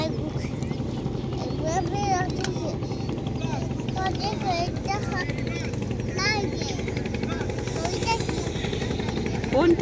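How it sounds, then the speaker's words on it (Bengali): Steady low throbbing of a trawler boat engine chugging nearby on the Meghna River, continuous throughout while people talk over it. "এই যে একটা ট্রলার আসতেছে দেখছো"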